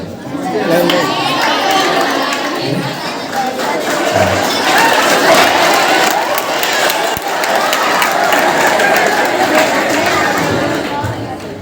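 College students at a gathering clap and cheer loudly in a large crowd, with shouts and chatter mixed through the sustained applause.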